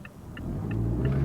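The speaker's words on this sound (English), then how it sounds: "You step on the gas, it does pick up and go." A turbocharged 2.5-liter car pulls away from a left turn, engine rumble building steadily as it accelerates, with faint short tire chirps near the start before the engine note swells louder.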